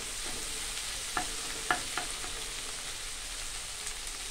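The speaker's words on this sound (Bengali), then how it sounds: "এখন আমি ডিমটাকে গুঁড়ো করে নিচ্ছি, এখন আমরা ভালোভাবে একটু মিশিয়ে নিব।" Egg is broken up and stirred in a hot pan for fried rice, with a continuous hissing sizzle and a few soft taps of a spatula against the pan, close and fairly quiet.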